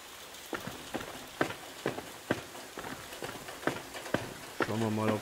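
Steady rain hiss from the video game DARQ, with regular footsteps splashing through it and a voice speaking briefly at the end.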